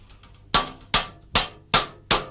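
Five sharp, ringing hammer blows strike a 1 mm metal sheet, worked cold, at an even pace, each clang close and loud with a short decay.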